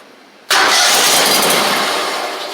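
A Gravely 260Z zero-turn mower engine, which has a starting fault, bursts into a loud, steady roar close by after a moment of quiet and holds the sound without a break.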